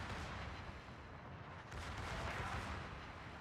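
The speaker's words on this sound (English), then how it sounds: "You can see Reejr's secondary is going to work." Secondary guns of the German battleship Pommern firing in the naval game World of Warships, heard as a dense, continuous barrage of booming gunfire and rumbling blasts with no pause, loud throughout.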